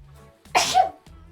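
A single sharp human sneeze, loud and close, with a quick intake and burst, set against a quiet room hum with nothing else around it.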